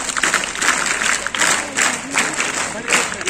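An audience at a district-level Bharat Scouts and Guides rally in Mahoba, Uttar Pradesh, claps together in rhythmic bursts. The applause is close and loud, with a voice heard briefly alongside it.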